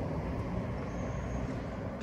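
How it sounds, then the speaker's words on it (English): Steady road traffic noise drifting into a suburban yard with a blooming ceanothus hedge, a continuous broadband rumble and hiss of passing cars and trucks with no breaks and no speech. "Sorry about the road noise."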